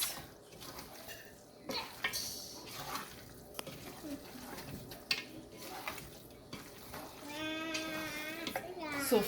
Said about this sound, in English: And then I mix.